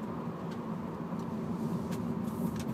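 Car with a manual transmission driving in third gear through a turn, a steady low engine and road drone heard from inside the cabin with no talking.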